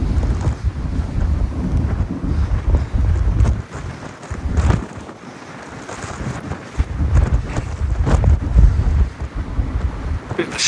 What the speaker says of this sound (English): Bit of a storm.